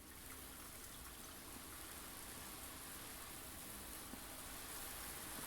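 Water runs steadily in a room of the video game Blue Prince, a continuous soft rushing trickle heard alone at low level throughout.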